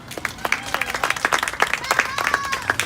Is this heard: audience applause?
yes